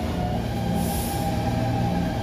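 Inside a crowded train in Taiwan, a loud, steady rolling rumble with humming motor tones and faint wheel squeal carries on continuously, close and enveloping, with no talk.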